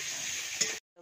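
Food cooking in a pan at home, a steady close sizzle with stirring that stops abruptly near the end, a brief silence following.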